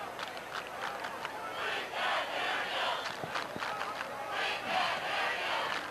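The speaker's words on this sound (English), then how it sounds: "And you can hear the crowd." Crowd at a varsity high school football game cheering and roaring in swelling waves from the stands, heard at a distance with a broad, sustained wash of voices.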